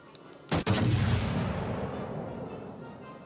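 Naval gunfire in the World of Warships Legends video game, a sudden loud close cannon blast followed by a second heavy boom and a long rumbling roar that slowly fades.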